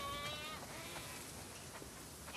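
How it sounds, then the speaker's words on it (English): Sheep bleat in a farm scene from The Last of Us Part 2, a soft, steady flock murmur with a few faint calls under a constant rain-like hiss, rising briefly at the very end. "We definitely have way too many sheep."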